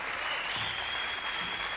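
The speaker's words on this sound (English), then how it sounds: "the crowd already showing their appreciation" Spectators at a 1993 Superseries squash match in Zurich applaud, a dense, steady burst of clapping from an indoor crowd.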